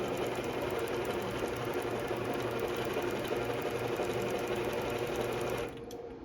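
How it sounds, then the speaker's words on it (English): An Intelliquilter quilting machine, slowed down and set to 11 stitches, runs a fast, even mechanical stitching hum while working tiny motifs, steady and close before stopping abruptly near the end. "I have slowed down Intelliquilter, and I have my stitches at 11"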